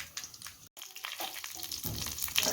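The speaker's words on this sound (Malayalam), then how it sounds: "ഇനി കടുവിട്ട് കൊടുക്കാം" Mustard seeds crackle and splutter in hot oil as a tempering is made for a pumpkin erissery, a steady close sizzle with dense popping that grows busier toward the end.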